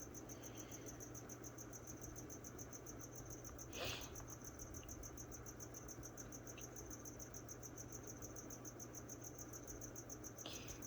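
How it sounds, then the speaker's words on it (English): Feeder crickets chirp steadily in a leopard gecko enclosure, a continuous high pulsing trill that runs the whole time at even volume, with a couple of faint brief rustles and no voices. "I see the cricket he's going after."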